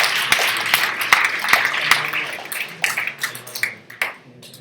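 A demo-day audience at a Wearable IoT World Labs event gives a round of applause for mentors and partners: dense, sharp clapping that starts strong, then thins into scattered claps and fades out by the end.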